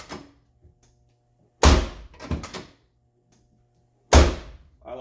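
A 1970s–80s Ford car door pops open on a newly fitted striker bolt, giving two sharp, close latch thunks with a short rattle between them against a quiet background.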